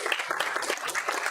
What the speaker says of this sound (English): Big round of applause for Olivia.